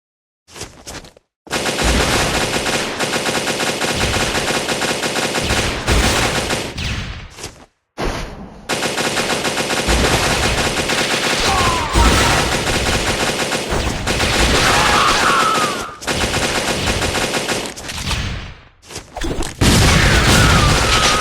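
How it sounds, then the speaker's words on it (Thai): Sustained, loud gunfire bursts from the Metal Slug Awakening mobile game, dense machine-gun fire and explosions nearly continuous over twenty seconds with two brief pauses, no talking. "สาดกระสุน"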